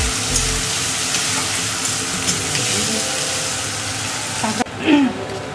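Chopped onion frying in hot oil in a home kitchen while being cooked down to red, a steady loud sizzle with occasional stirring scrapes, ending in a brief quieter clatter.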